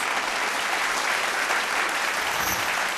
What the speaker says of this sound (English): A big round of applause as well for Wrigley's.